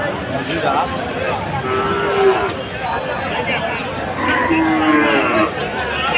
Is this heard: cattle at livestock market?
yes